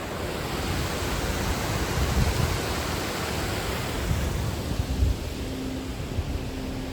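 Water gushing out of the irrigation tunnel cut through Kalyanathandu hill toward Anchuruli in Idukki, a steady broadband roar with no voices over it.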